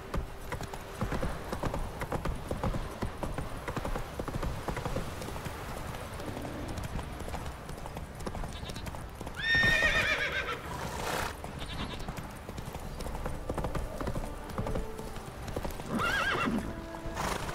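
Roach, a horse in The Witcher 3 video game, clip-clops steadily throughout with hoofbeats close by, and a whinny breaks out around the middle over continuous ambient game sound.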